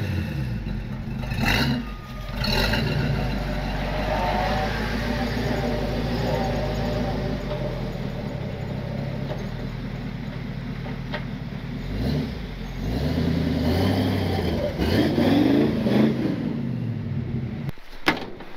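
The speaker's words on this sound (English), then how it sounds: "starting a 1948 Jeep goes as such" A cold 1948 Jeep engine cranks, catches and settles into a rough, steady idle, with a few clunks and a door-like thud near the end.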